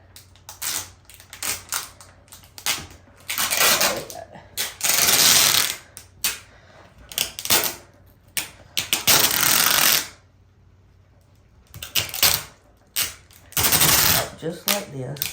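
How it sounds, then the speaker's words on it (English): Packing tape being pulled off the roll and pressed down to seal stored Christmas flowers, giving loud, close bursts of screeching, rasping tearing in repeated pulls of one to two seconds with short pauses between, and a voice talking faintly in places. "Then I go back and take my tape, packing tape, and go over it"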